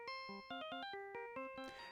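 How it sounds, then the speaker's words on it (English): The Steel Samurai ringtone from the Ace Attorney video game chimes as a bright, bouncy electronic melody of short, clipped notes in a quick rhythm, loud and clear with no voices. "this is a Steel Samurai ringtone that is prominent across Mr. Wright's phone from all of the games of the canon Ace Attorney series"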